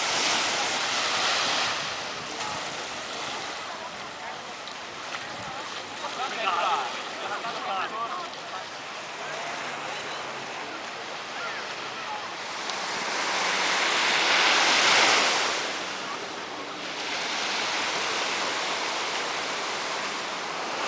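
Sea waves wash onto a bay beach in Phuket, Thailand, a continuous surf roar that swells and recedes in long surges, with wind buffeting the microphone throughout.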